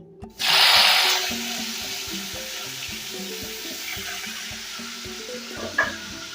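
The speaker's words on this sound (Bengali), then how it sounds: "তেলটা গরম হয়ে গেছে এবার আমি নুন হলুদ মাখানো উচ্ছেগুলো উচ্ছে নয় এটা করলা ভেজে নিচ্ছি" Bitter gourd coated with salt and turmeric dropped into hot oil: a sudden loud hiss bursts up, then settles into a steady softer sizzle with a brief flare near the end.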